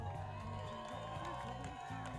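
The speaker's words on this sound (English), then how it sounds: "And the crowd goes wild." A crowd at the 2013 Northwest Wakesurf Open awards cheers, whoops and claps, sustained and fairly close, with a voice speaking over the noise throughout.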